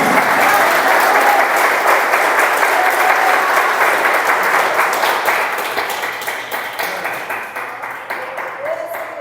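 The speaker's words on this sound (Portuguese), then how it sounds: "Vamos dar uma salva de palmas para o nosso Deus" A church congregation applauds loudly and continuously, the clapping thinning out and fading toward the end.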